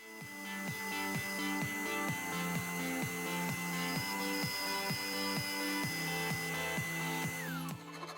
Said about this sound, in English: I trace around the hinge and then cut it out on the bandsaw.